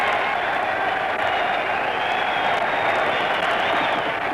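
A large boxing arena crowd roaring and applauding as one after a knockdown in an early championship fight, a dense, steady wall of distant cheering that holds level throughout.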